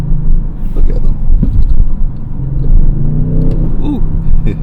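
A 2022 Audi RS7 rumbles at close range, its engine note rising and falling through steady low throbbing with a few brief revs, loud throughout and mixed with faint background voices.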